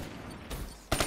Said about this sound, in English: I'm being shot right now, which isn't a good thing, as it is a shooter game